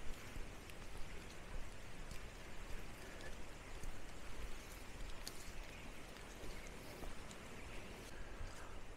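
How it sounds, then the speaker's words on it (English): Heavy rain pours down in woodland at Tehidy in Cornwall, a dense continuous hiss of drops falling through trees and pattering on nearby surfaces, steady and close throughout with no voices. "It's absolutely bucketing down."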